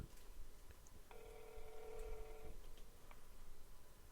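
A phone on speakerphone plays a quick string of dialing tones, about a second and a half of faint, steady beeps over low room hiss.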